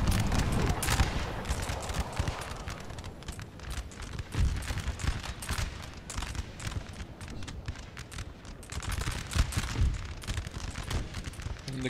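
Canister shot volleys and musket fire crackle continuously across a Napoleon Total War battlefield, dense bursts layered into a rolling roar of gunfire with no letup, loud throughout.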